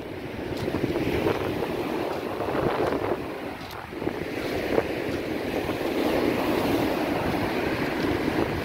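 Waves washing against a riverside embankment on an evening near sunset, a steady close rushing wash with wind buffeting the microphone throughout, no voices.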